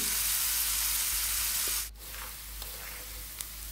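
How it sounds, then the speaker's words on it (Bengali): Carrots and potatoes sizzle in a pan with turmeric and salt, a steady close broadband frying hiss with a brief dip midway and a couple of small clinks. "এখন হলুদ আর লবণ দিয়ে দিচ্ছি গাজর আর আলু ভাজার মধ্যে"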